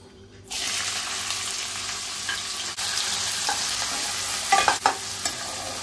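Onion drops into hot oil in a wok for a prawn masala and bursts into a loud, dense sizzle that holds steady, with a few stirring scrapes and clinks near the end.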